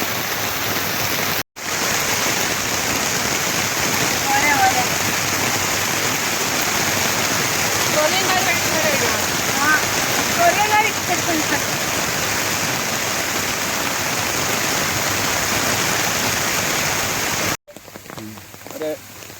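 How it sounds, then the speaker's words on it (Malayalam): Steady, dense rain noise pours continuously, a broad hiss like a heavy downpour, with a brief gap near the start and near the end. "പക്ഷേ മഴ ആണെങ്കിലും മധുരത്തിനൊന്നും ഒരു കുഴപ്പമില്ല"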